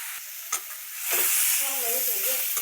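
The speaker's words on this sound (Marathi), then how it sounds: "बघा चांगला मसाला भाजला पाहिजे बरं का" Masala spices with turmeric roast in a pan, a loud close sizzle that swells after a light tap and holds steady with stirring.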